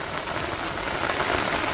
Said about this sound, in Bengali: কি সুন্দর বৃষ্টি বেঞ্চেল,